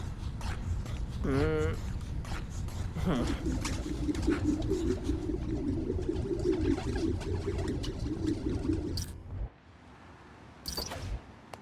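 Pigeons coo in a park in the Spider-Man: Miles Morales game, a steady low burbling chorus that runs for several seconds under people talking, then drops away to near quiet with brief clicks.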